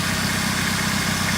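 A 2000 Saturn SW2 16-valve twin-cam engine runs right after a cold start, a steady close idle with low, even rumble and vibration throughout, no voices.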